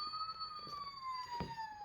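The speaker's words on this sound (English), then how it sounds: "doing his siren thing." Electronic siren from an Optimus Prime Transformers Robots in Disguise 2001 toy, a steady high wailing tone sliding slowly downward, close and clear, with a few faint handling clicks.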